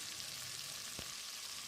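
Chopped potato, carrot, beans, green peas and capsicum fry in oil for vegetable pulao, giving a dense, continuous sizzle with one brief stir or clatter midway.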